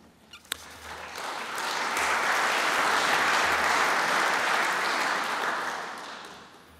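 An audience at a Bundeswehr New Year's reception breaks into applause for the Brandenburg state parliament president, starting after a few faint knocks, swelling to steady full clapping and easing slightly near the end.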